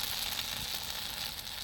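Spices with Kashmiri chili powder fry in oil for mutton curry, giving a dense, continuous hissing sizzle that stays close and even for a brief moment.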